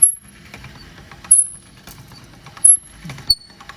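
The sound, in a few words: hand-cranked roller flattening dough for onion chips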